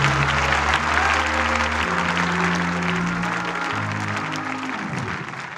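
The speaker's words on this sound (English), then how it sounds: "Shall we put our hands together and clap for the Lord?" Church congregation clapping for the Lord during a Sunday sermon service, loud sustained applause with sustained organ or keyboard chords sounding underneath, fading slightly toward the end.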